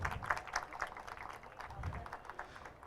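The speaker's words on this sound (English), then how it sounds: "Can we hear a big round of applause for both of them" An audience at a literary festival claps for a writers' conversation, a light, scattered patter of hands that rises and falls briefly, with a voice faintly beneath it.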